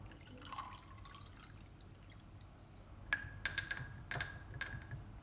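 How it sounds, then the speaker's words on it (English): Chemicals are mixed with distilled water in laboratory glassware, giving faint liquid trickling followed by a quick run of light glassy clinks and taps, near and quiet with no talk. "Distilled water is also ready, so now I'm mixing them."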